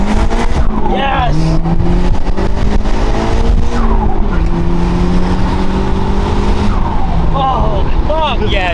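A Nissan Skyline R34 GT-R accelerates hard, its engine note climbing and dropping through shifts, loud and close with rising harmonics, while people talk excitedly over it.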